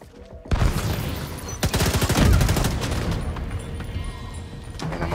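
Heavy gunfire from a co-op firefight in The Division 2 on Roosevelt Island, with dense rapid automatic bursts and sharp reports crowding together loudly, a brief lull, then sustained shooting continuing to the end.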